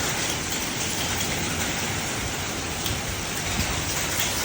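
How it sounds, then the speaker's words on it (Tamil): Heavy thunderstorm rain pours down in a steady, loud, dense roar that stays constant throughout, with no speech. "நினைக்க கூட இல்லை இவ்வளோ மழை பெய்யுங்க"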